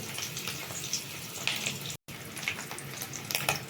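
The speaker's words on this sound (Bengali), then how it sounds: "ডিমগুলোর এক পিঠ ভাজা হয়ে গেছে আমি অপর পিঠ ভাজছি" Crackling, hissing sizzle of fish roe frying in oil in a pan, fairly steady with a few sharp pops and a brief dropout midway.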